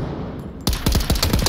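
Rapid automatic gunfire in the video game Onward, a dense burst of loud, close shots that starts abruptly after a quieter lead-in.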